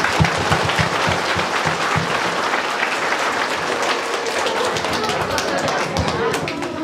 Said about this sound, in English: let us give them a round of big applause.